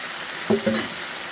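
Chilli, cumin and garlic paste frying in oil, a brief steady sizzle with a couple of short clinks.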